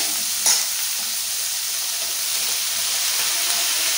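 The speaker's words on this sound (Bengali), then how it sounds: "আর পেঁয়াজটা ভাজা করছি।" Onions frying in a pan give a steady, close hiss of sizzling oil that holds level through the clip, with one short brighter crackle near the start and no voices.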